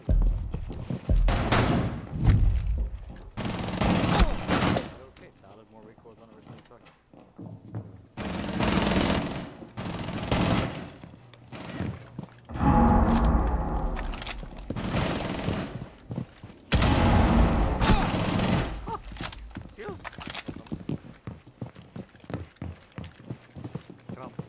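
Bursts of rapid automatic gunfire from a weapon with heavy recoil in a Rainbow Six video game, loud clattering volleys separated by short pauses, with voices talking between and over the shots.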